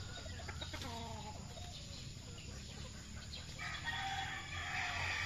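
A gamefarm rooster crows once, faint and somewhat distant, followed by soft clucking and background farmyard noise, with another bird call rising late in the clip.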